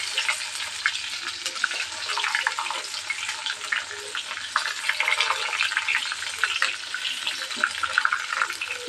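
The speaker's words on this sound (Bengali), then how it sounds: "তেল গরম হয়ে এসেছে, দিয়ে দেবো 2 টুকরো তেজপাতা, দিয়ে দিলাম পেঁয়াজ" Sliced onions and bay leaf pieces fry in hot oil for a quail curry, a steady close hiss and sizzle with faint stirring scrapes throughout, alone and fairly even in loudness.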